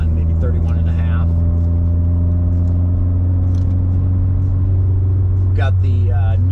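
Heavily modified 550whp Subaru STI engine droning steadily from inside the cabin while driving, a loud low rumble throughout, with someone talking over it.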